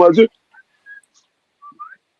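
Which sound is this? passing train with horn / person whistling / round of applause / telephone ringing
person whistling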